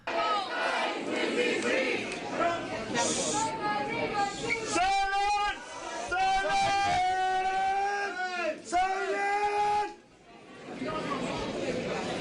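A crowd at a Free Palestine rally keeps up a loud, unbroken mix of chatter, shouts and raised chanting voices, with a brief dip in level near the end.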